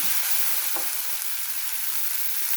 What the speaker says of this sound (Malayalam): എല്ലാം കൂടെ ഒന്നുകൊണ്ട് മിക്സ് ചെയ്യാം